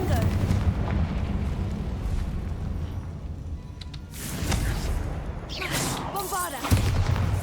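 Fiery blast of the Confringo spell in the game Hogwarts Legacy: a sudden, broad burst of roaring noise that swells over continuous battle rumble, with voices speaking around it.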